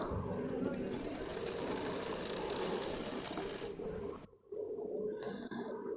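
A sewing machine stitches cloth for a Jagannath outfit, running as a steady mechanical whir with fast rhythmic needle pulses before stopping, followed by a brief faint clatter.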